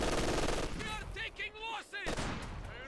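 LMG Grenadiers in Company of Heroes 2 fire bursts of machine-gun rounds, quiet rattling volleys mixed with battlefield noise over a few seconds.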